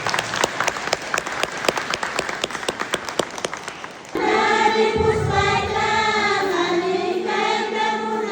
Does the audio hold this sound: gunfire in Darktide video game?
no